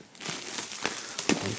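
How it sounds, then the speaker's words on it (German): Plastic film wrap being pulled off a signed unboxing box, a close, loud continuous crinkling and crackling with a few sharper rustling bursts. "Als erstes machen wir mal die Folie komplett ab"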